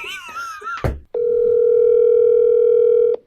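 A telephone tone on an unanswered call sounds as one long steady electronic beep lasting about two seconds, preceded by a short burst of voice.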